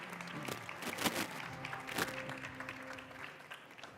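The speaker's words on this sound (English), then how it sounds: "So let's give them a round of applause." A conference audience applauds steadily, a dense wash of clapping that holds for several seconds before tapering slightly.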